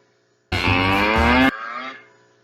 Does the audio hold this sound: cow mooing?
yes